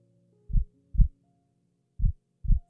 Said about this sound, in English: Do you hear my heartbeat?